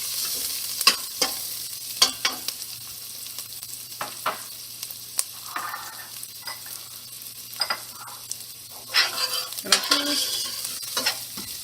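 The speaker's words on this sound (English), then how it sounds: "Fry it until it's going to be a little brown." Finely sliced ginger fries in a pan with a steady soft sizzle, broken by frequent clicks and scrapes of a utensil stirring it, close and moderately quiet with no talking.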